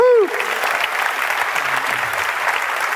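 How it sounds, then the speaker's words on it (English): Audience clapping at a medical conference ultrasound competition, a brief whoop at the start and then a steady crowd applause throughout. "That's worth a clap."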